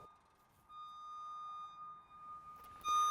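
A JLG electric-drive scissor lift with its brakes released for towing gives off a continuous thin electronic beep. The tone is soft at first, holds steady, then grows sharply louder in the final half-second.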